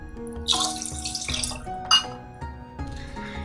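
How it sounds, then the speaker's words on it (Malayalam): About 500 ml of water, two glasses, splashes and trickles into a metal pot of palada payasam mix in a few short pours, with light clinks of a glass; close and fairly quiet. "ഇതിപ്പോ 2 ഗ്ലാസ് വെള്ളം ഞാൻ ചേർത്ത് കൊടുക്കുന്നുണ്ട്."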